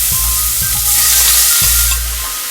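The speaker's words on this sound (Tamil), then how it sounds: "இப்போ நம்ம துருவின கேரட்டை இது கூட சேர்த்துடலாம்" Grated carrot sizzles and fries in hot ghee in a pan, a steady close hiss broken by a few soft stirring knocks.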